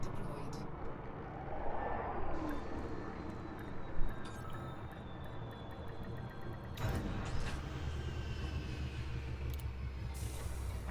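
A spaceship touching down at a fleet carrier in Elite Dangerous: a steady low mechanical rumble with hissing and clunks, a soft thud midway and a sharp clank near the end, with a synthetic voice announcing over it.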